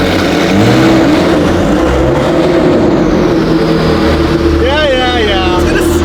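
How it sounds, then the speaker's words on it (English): A Lamborghini Squadra Corse with a straight-pipe exhaust and no catalytic converters rumbles loudly and close by, with a deep throbbing idle and a rising rev near the end, while people talk over it. "Hey, your car's so loud."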